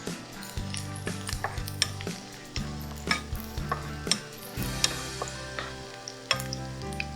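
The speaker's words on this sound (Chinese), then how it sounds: "我家人是很喜欢蒜头的，所以我放多一点。 记得一定要把蒜头爆香。" Garlic frying in a wok for garlic prawns, a steady bright sizzle with frequent metallic scrapes and clinks of a spatula stirring against the pan, close and continuous.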